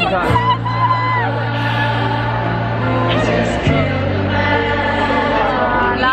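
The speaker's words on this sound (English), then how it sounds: "This crowd is actually insane" Loud concert crowd at a show, a dense roar of cheering and whooping with music playing underneath, sustained throughout.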